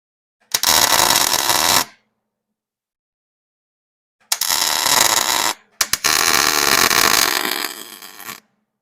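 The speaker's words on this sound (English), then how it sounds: "I'm just going to tack this stuff in here good for now." Tack welds are laid on a gas tank being installed in a 1940 Pontiac Silverstreak. Three loud, close bursts of harsh broadband buzzing and crackling, each about one to two seconds long, with silence between them.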